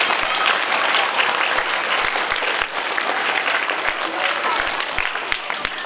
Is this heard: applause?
yes